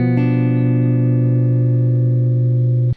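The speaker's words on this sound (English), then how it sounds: "Our 7 chord is going to be a diminished triad" A diminished triad rings out on a keyboard-like instrument as a single sustained chord, struck once just after the start and held steadily for nearly three seconds before cutting off cleanly.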